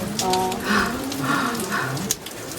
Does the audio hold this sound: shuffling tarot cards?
no